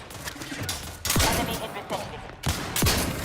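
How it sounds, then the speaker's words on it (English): Gunfire in the Outer Worlds 2 video game comes as several loud bursts of rapid shots at close range, separated by brief lulls over a low background. "Firing into the back of Inez there."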